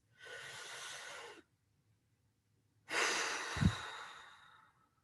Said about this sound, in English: I'd love for you to take a good deep breath. As big as you can, and I want you to keep breathing.